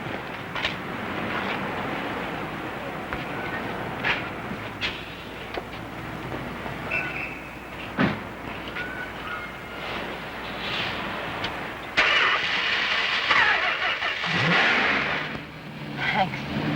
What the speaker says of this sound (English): Try and start the car now.